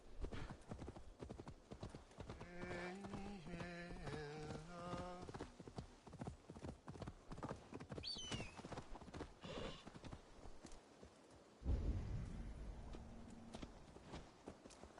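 Horse hooves clip-clop at a walk in Assassin's Creed Valhalla, a steady run of close hoof falls over game ambience, with a brief musical chime and a horse snort or low noise near the end.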